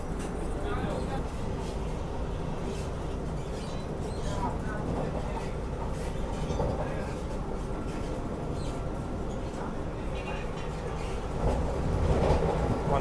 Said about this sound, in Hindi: वंदे भारत को भगा के लेकर जा रहे हैं।